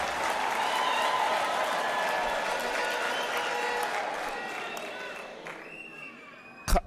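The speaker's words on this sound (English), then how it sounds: "You ought to be clapping and..." A university graduation ceremony crowd claps and murmurs in a broad, sustained wave of applause mixed with faint cheering, gradually thinning toward the end before a brief loud bump.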